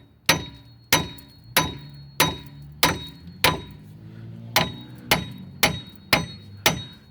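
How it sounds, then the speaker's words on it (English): Hammer whacking the cast iron tie rod end on a 2011 Hyundai Sonata 2.4L GLS, eleven sharp ringing metallic blows at a steady pace with a brief pause midway, close and loud, no talk. "What we're gonna do is give it a couple whacks here."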